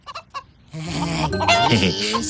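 A cartoon chicken sound effect, with a few short clucks followed by a loud, drawn-out squawking cackle, close and prominent.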